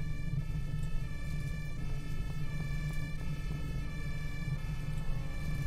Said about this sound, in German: Da kommt nämlich auch noch ein Krankenwagen.